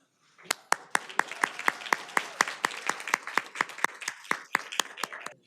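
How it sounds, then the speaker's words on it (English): An audience at a university graduate-student competition final night claps in a steady, fairly even rhythm of distinct, sharp claps. It lasts several seconds at moderate loudness without voices. "We'd love to give you a round of applause"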